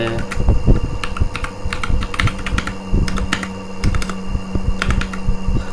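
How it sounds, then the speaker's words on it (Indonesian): Keys clatter on a computer keyboard as a command is typed into a Debian 12.2 virtual machine in VirtualBox, a close, brisk run of uneven clicks with short pauses between bursts. "Caranya itu kita ketikkan nano /etc /apt"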